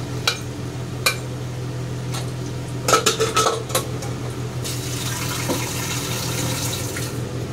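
Water is poured into a pot of whole moong beans being cooked, a steady rushing fill in the second half that follows a few sharp clinks of metal utensils against the pot.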